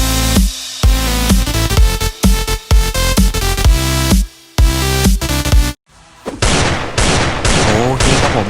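Rapid automatic gunfire from a video game played during a clan gathering: loud, dense bursts of shots run almost continuously, with a short break partway through before more firing.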